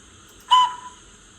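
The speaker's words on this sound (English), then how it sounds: "There is a second whistle as well, which is like this one." The second whistle effect of a Bachmann G5 class 4-4-0T OO gauge model locomotive with DCC sound, a single short high-pitched toot lasting about a fifth of a second, heard alone against quiet background.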